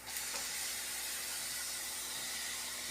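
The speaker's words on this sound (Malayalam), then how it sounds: "തക്കാളിയും കൂടി ഇട്ട് നന്നായിട്ട് വഴറ്റി കൊടുക്കണം" Tomatoes sautéing in a hot pan give off a steady, even sizzling hiss, close and moderately quiet, with no voices over it.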